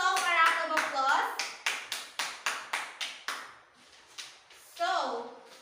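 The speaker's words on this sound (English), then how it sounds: "give yourself a round of applause" A class of children claps in a burst of applause, a run of about eight sharp, evenly spaced hand claps, close and fairly loud, with children's voices talking at the start and end.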